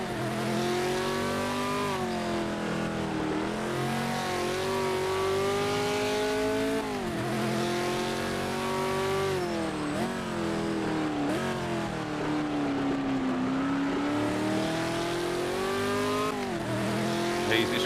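Race car engine in the Project Motor Racing video game on PS5, GT Icons pack, revving loudly and continuously through gear changes with rising and falling pitch and occasional tire squeal, under intermittent talk.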